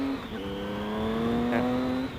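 Cold motorcycle engine revved gently without going high, a single rising and falling drone heard close and steady for about two seconds, with no talking.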